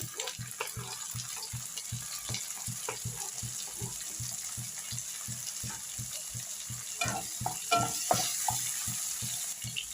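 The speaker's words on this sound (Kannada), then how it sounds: "ಈರುಳ್ಳಿನ ಸ್ವಲ್ಪ ಚೆನ್ನಾಗಿ ಫ್ರೈ ಮಾಡ್ಕೊಳ್ಳೋಣ. ನೋಡಿ, ಇವಾಗ ಟೊಮೆಟೊ ಹಾಕ್ತಾ ಇದ್ದೀನಿ." Onions and tomatoes fry in a pan with a steady, hissing sizzle, while regular scraping stirs tap out a quick rhythm throughout and grow a little louder near the end, no voices.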